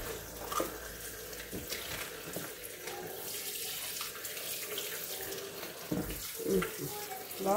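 Tap water running steadily into a sink while vegetables are rinsed, a continuous close splashing wash with a few bumps and knocks, no clear speech.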